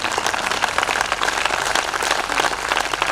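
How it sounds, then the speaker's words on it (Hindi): Audience applause at a Hindi comedy and satire poetry show, a dense, steady patter of many hands clapping throughout, close and fairly loud with no talk over it. "ताली इस बात पर चाहूँगा साहब"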